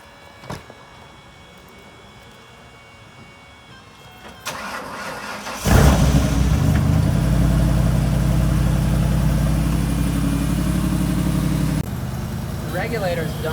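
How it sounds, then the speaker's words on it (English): A truck engine cranks and fires up, then settles into a loud, steady idle with a low rumble, preceded by a few quieter clicks and mechanical sounds; a fuel system flow-test setup is running nearby. "so I'm gonna fire up the truck now."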